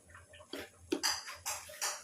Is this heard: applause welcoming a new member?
no